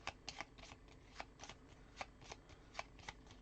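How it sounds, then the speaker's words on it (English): Gloomhaven board game cards being shuffled by hand, a run of quick crisp riffling flicks in an irregular rhythm, close and fairly quiet with no voices. "let's flip these over and shuffle them."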